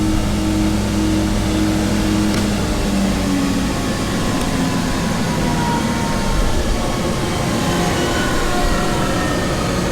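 Wadkin GD 5-head moulder with a 3 horsepower feed and 40 mm spindles, running at idle as a steady, dense mechanical hum and whir, loud and close, with no change for the whole stretch.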